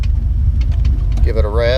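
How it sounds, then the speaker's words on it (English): A Ford Foxbody stick-shift wagon's engine cranks and catches, a loud low rumble that rises toward the end as it fires up, with a voice speaking over it. "let's fire it up."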